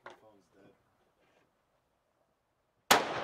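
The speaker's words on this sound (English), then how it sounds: "All right, Bill, shoot that blue bottle, buddy." A single loud rifle gunshot bursts out near the end at a blue bottle target, following a few seconds of near silence after brief talk from a person.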